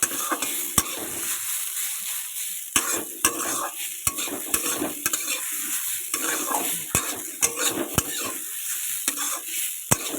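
Salted potato pieces for aloo paratha fry in a pan over a raised gas flame, a constant sizzle broken by sharp, regular clicks and scrapes of a spatula stirring against the metal.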